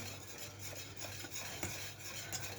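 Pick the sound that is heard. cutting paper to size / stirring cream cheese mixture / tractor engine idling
stirring cream cheese mixture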